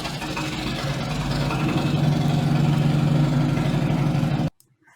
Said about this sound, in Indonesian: tadi ada tetangga dia punya motor Harley, suaranya segede suara gunung meletus.